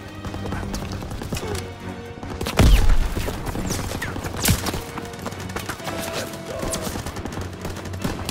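Machine gun fire in a Call of Duty WWII D-Day battle, with a gun position firing from a hayloft. Bursts of gunfire and a couple of loud blasts run through a dense, continuous battle din.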